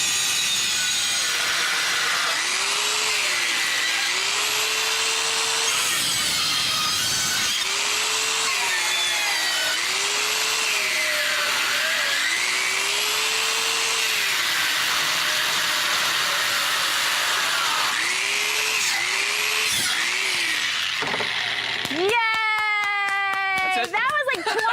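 DualTools CS450 dual-blade saw cutting through wood flooring, a 2x4, rebar, PVC and copper, a loud continuous whining motor whose pitch dips and rises with each cut, with a voice briefly heard at the end.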